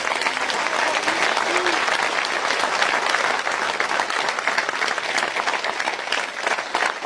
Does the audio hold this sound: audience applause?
yes